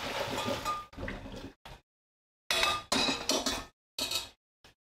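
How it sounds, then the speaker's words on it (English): Metal utensil scraping and clinking against a cooking pot as meatballs in sauce are gently stirred, in short bursts with brief silent gaps, fairly close and with no talking. "we're just going to give these a little stir"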